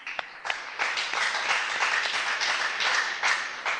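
A studio audience applauds a school quiz team, steady dense clapping with a few sharper claps standing out, moderately loud and continuous throughout.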